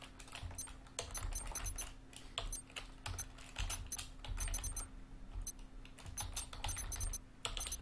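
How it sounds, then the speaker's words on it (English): Rapid keyboard typing in the horror game Welcome to the Game, dense bursts of close key clicks in an uneven rhythm with short pauses, over a steady low hum. "I can type, asshole"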